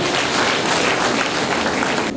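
Dense audience applause at a 3D printing workshop, a steady wash of many hands clapping for about two seconds, close and fairly loud.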